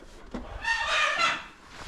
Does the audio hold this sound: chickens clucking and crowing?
yes